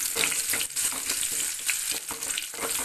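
Bird's eye chillies, ginger, garlic and curry leaves fry in hot oil with a steady, bright sizzle and crackle, quietly stirred now and then, with no voices.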